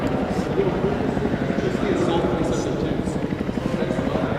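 A helicopter at a military training base fills the scene with a loud, steady rotor chop that pulses throughout, with people shouting and talking over it.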